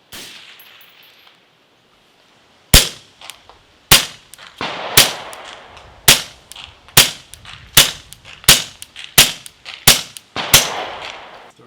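Ten or so sharp suppressed gunshots from a rifle fitted with an Optimus Micro silencer, fired at a steady, slightly uneven pace, each a crisp crack with a short decaying tail, loud and close with no talk.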